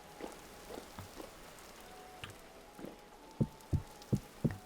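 Rain falls in the Vintage Story survival video game as a faint, steady patter under soft drips, with a handful of louder, deeper drops landing close by toward the end.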